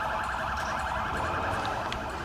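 Police sirens wailing continuously in a Sleeping Dogs game chase, a rapid warbling tone repeating in quick cycles over low vehicle rumble, loud and steady throughout.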